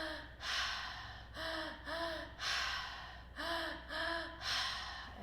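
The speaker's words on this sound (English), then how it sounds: "So a few more moments of breath here, belly, chest, exhale." Deep guided breathing, with slow belly and chest inhales each followed by a long exhale, repeated in a steady cycle of about six close, clear breaths with no talking.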